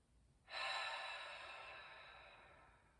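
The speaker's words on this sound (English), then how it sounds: "Now exhale through your mouth" A long, audible exhale through the mouth during a seated chair yoga breathing practice, starting abruptly and tapering gradually as a soft, breathy rush heard up close without any talk.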